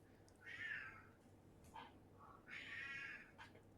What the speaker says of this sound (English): the cat's mad